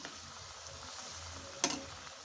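Puris deep-frying in a kadhai of oil over low heat, a soft steady sizzle with a sharp splashy burst as hot oil is ladled over them, then settling back to a gentle bubbling hiss.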